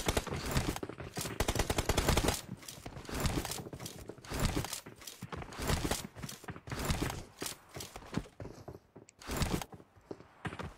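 Rapid bursts of gunfire in the PUBG Mobile game, loud, close, repeated volleys of shots in quick succession with brief gaps, with no talk over them.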